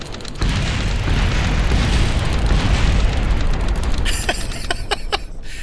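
A rocket blowing apart in Kerbal Space Program, a loud sustained explosive roar that starts abruptly and rumbles on, ending in several sharp crackling pops.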